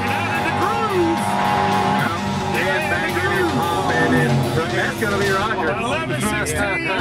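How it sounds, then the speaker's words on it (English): A race car spins out on track with engine roar and squealing tires under a loud, continuous noise of cars on the track, while voices talk over it. "He's flying all over the place. He's still spinning."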